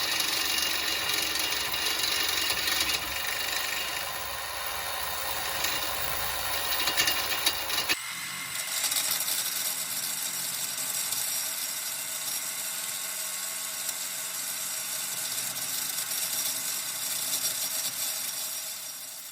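A reciprocating saw fitted with a metal cutting blade grinds steadily at a bolt on a Honda Pilot sway bar end link, a continuous harsh buzzing rasp close up that shifts tone partway through.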